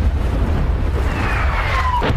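A Turkish tank fires and its shell explodes in a sound effect: a loud, deep rumbling boom under a faint whistling sweep, with no speech.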